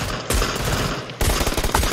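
Bursts of automatic gunfire ring out in a PUBG Lite match, two dense rapid volleys separated by a short lull, loud and close.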